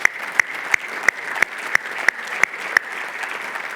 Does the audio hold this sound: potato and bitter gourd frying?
no